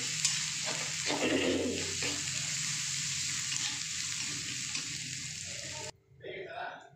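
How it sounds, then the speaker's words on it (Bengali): Ginger and spices frying in a pan for masala paneer, a steady close sizzle with a few stirring scrapes, cutting off abruptly near the end. "একটু নাড়াচাড়া করে নিই"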